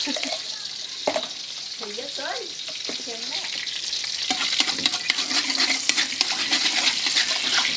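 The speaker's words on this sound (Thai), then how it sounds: "น้ำมันร้อนนะครับ ใส่พริกกระเทียมที่เตรียมไว้" Chili and garlic drop into hot oil for a stir-fry with pork, starting a close, loud sizzle that builds steadily and crackles throughout. A brief voice is heard earlier.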